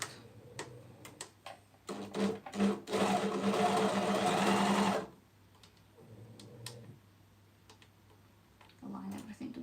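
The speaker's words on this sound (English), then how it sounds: "When you pass the thickness of the elastic, then you can use the foot and start to sew" A sewing machine stitches across elastic in a steady mechanical whir lasting a few seconds, preceded by ticking clicks and followed by quieter handling sounds, with a person talking around it.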